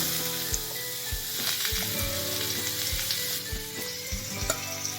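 Cucumber pieces frying in a pan, an even close sizzle broken by several soft knocks of a spoon stirring against the pan at a loose rhythm, with no voices.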